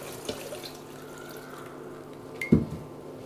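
Quinces being rinsed under cold running water, a soft steady trickle with a louder splash and clatter of fruit in the sink midway, close and without talk.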